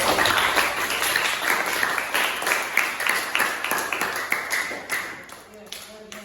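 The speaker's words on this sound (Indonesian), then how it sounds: "Kasih tepuk tangan untuk kelompok yang sudah maju" Schoolchildren in a classroom applaud a group that has just presented. Dense, quick, uneven claps run for several seconds and thin out toward the end, with voices underneath.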